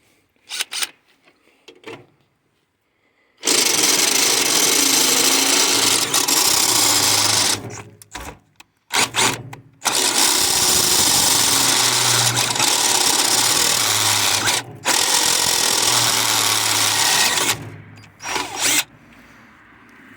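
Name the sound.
power drill drilling out a part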